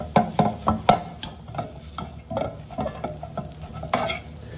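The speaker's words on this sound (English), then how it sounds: "I'm just simply going to crush those potatoes up and mix it with that nice onion mixture." A fork crushes cooked new potatoes in a pan and mixes them into an onion mixture, giving a series of close, soft scraping and squashing strokes in an uneven rhythm, with a faint sizzle underneath.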